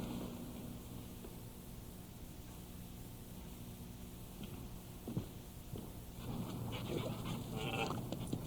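A dog pants in quick, breathy bursts at fairly close range, with soft whimpers and shuffling sounds that grow busier toward the end.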